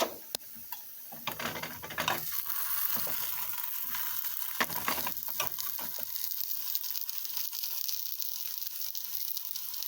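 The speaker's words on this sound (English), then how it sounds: "We're cooking scrambled eggs and fried bologna." Scrambled eggs and slices of bologna frying in a pan give a soft, steady sizzle, punctuated by a few clicks and scraping knocks of a utensil early on and midway.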